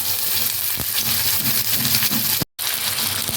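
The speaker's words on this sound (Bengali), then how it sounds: "আলুগুলোকে আমি লাল লাল করে ভেজে নিয়েছি এবার আমি এর উপর দিয়ে দিয়ে দেবো অল্প কুচানো পেঁয়াজ" Potatoes and chopped onion frying in mustard oil in a village-style kitchen, a steady dense sizzle throughout with a brief cut near the end, close and fairly loud.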